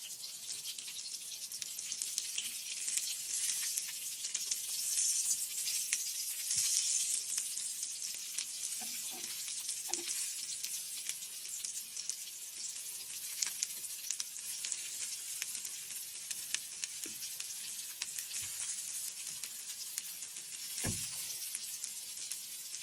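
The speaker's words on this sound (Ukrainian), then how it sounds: "А я смажу котлети" Chicken cutlets sizzle steadily in a hot frying pan, a constant crackling hiss with occasional soft clinks and scrapes.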